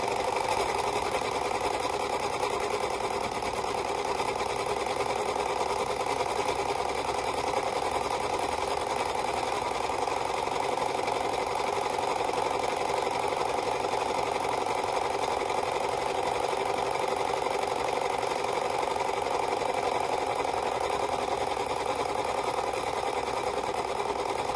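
A serger sewing machine runs steadily, stitching fabric as a continuous close, even mechanical whir with no pauses and no talking.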